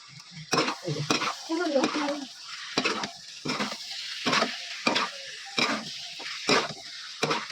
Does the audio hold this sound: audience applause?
no